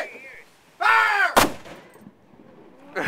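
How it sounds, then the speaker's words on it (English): A cannon fires at an outdoor demonstration as one sharp, loud blast right after a shouted command, followed by a fading rumble and crowd murmur. "It's a cannon firing. It's going to be loud."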